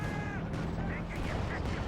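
Cannon fire from Company of Heroes 2 booms over a dense wash of battle noise, with repeated heavy shots in a busy, continuous mix.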